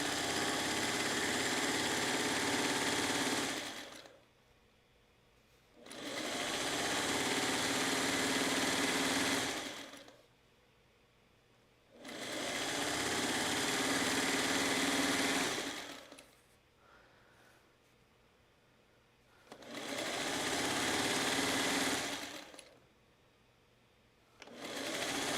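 A sewing machine stitching quilt blocks in loud, steady runs of about four seconds each, separated by short pauses, repeated five times with no talking.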